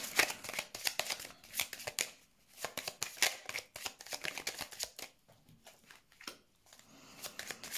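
Tarot cards being shuffled by hand in rapid bursts of crisp riffling and flicking, close and fairly quiet, with brief pauses between runs and no talking.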